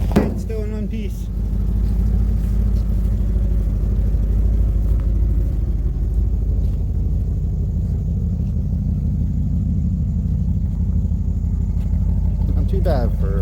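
An old van drives along with a steady low engine rumble and road noise, fairly loud and constant throughout.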